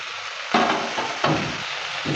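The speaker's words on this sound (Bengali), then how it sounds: "ঢাকনাটা তুলে নেওয়ার পর আবারও নেড়ে চেড়ে নিচ্ছে" Jackfruit seeds fried with water spinach (kalmi shak) get stirred in a pan, with a steady sizzle and two louder scraping stirs about halfway and three-quarters through, close and alone.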